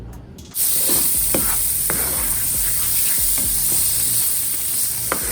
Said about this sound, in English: I'm use the pan that this bacon came out of to fry the onions and peppers up